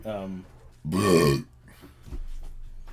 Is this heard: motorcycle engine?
no